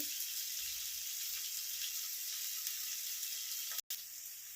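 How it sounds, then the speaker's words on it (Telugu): Onions fry in a pan with turmeric and salt for a bean and lentil curry, a steady close hiss and sizzle that runs unbroken with no talk, apart from a momentary dropout near the end. "ఆనియన్స్ అయితే వేగుతున్నాయి"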